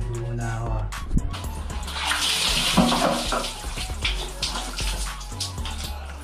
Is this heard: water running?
yes